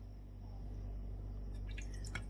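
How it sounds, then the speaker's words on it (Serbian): Water with a little apple cider vinegar poured into a jar over lemons and limes: a steady, close liquid rush for about two seconds, ending in a few bright splashes and drips, with no voices. "da ih stavim najpre ovako u teglu i zalijem vodom u koju sam dodala malo jabukovog sirćeta"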